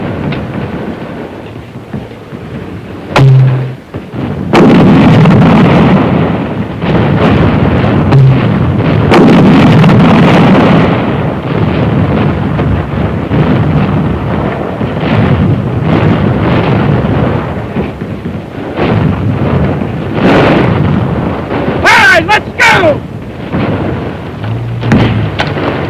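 A mortar firing smoke rounds at charge 1 to screen a rifle platoon attacking a built-up area, loud booming blasts and a long rolling rumble of battlefield noise throughout.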